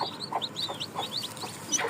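A hen with newly hatched chicks, a stream of high, thin chick peeps overlapping in quick succession at moderate volume nearby.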